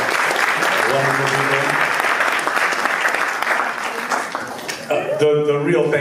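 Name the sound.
audience applause at engagement party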